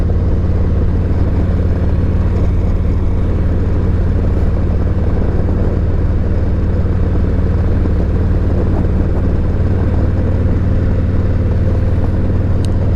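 A Harley-Davidson Road Glide motorcycle rides along a road, its engine a steady, loud low rumble blended with constant wind roar for the whole stretch.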